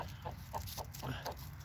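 A friendly hen in a backyard chicken run clucks in a quick series of soft, evenly spaced calls close to the microphone.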